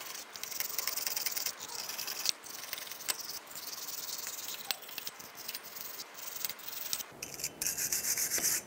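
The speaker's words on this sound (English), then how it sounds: "Take a wire brush and just clean this up." A wire brush scrubs rust off a brake hub on a 2002-2005 Chevrolet Trailblazer, giving a continuous raspy scratching in quick repeated strokes with brief pauses, close and moderately quiet, with no talking.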